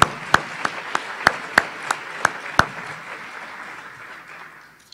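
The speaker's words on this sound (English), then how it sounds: "I'd like one more round of applause for that board" An audience at a community awards event applauds, a run of about nine sharp distinct claps standing out over a steady wash of clapping that fades away.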